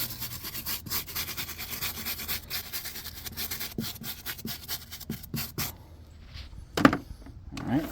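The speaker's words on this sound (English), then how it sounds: "So Wesley's Bleach White and the wire brush." A wire brush scrubs Wesley's Bleach White into a rubber tire during a chrome wheel detail, with steady rhythmic rasping strokes close up that fade near the end before a sharp knock.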